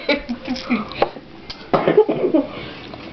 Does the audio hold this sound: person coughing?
yes